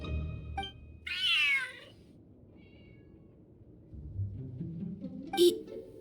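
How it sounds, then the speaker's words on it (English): A cat in Genshin Impact gives one clear, drawn-out meow, with quieter game sounds and a low rumble around it and a short sharp chirp near the end. "Whoa, this cat is way bigger than the others."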